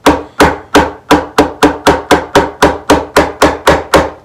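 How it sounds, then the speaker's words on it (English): A hammer drives frets into the fretboard of a 1970s Gibson ES 347 guitar with about a dozen sharp, evenly spaced taps, each close, loud and quickly fading, with no talk. "I have to hammer them down to get them tight"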